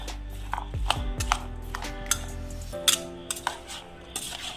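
Lemon juice being mixed into a recipe, giving a run of small metallic clinks and scrapes of a spoon against a vessel, fairly close and moderately quiet, with no talking.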